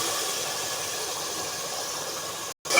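Egg hits a pan of spice masala with a steady, loud broadband sizzle that runs for almost three seconds, broken by a brief gap near the end.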